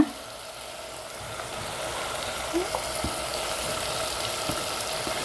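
Chopped tomatoes frying in a pan for a vegetable dish, giving a steady soft sizzle throughout with a few faint clicks, close and moderately quiet.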